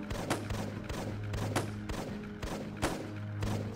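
Repeated shotgun blasts in the Curse Village Reawakening flash game, roughly six sharp booming shots spaced about half a second apart with reload gaps, loud and up front over a steady low game background hum.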